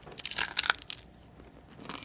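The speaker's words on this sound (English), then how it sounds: "Nice, crispy crunch." Crispy home-cooked bacon crunches in a few sharp, close bites over about a second, then a quieter chewing tail with one more faint crunch near the end.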